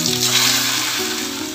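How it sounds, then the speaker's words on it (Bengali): Paneer lababdar ingredients, including red chillies and cashews, sizzle and fry steadily in hot oil in a kadai, a continuous close crackling hiss with no talk. "দেখুন সমস্ত ইনগ্রেডিয়েন্ট আমি একটু ভেজে নিচ্ছি"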